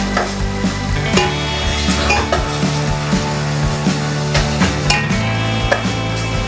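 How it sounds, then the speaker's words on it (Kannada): Green peas frying in oil in a pot for Mexican-style pulao, a steady close sizzle punctuated by repeated metallic clinks and scrapes of a spoon stirring against the pot. "ಬಟಾಣಿ ಸ್ವಲ್ಪ ಎಣ್ಣೆನಲ್ಲಿ ಬೇಯಲಿ."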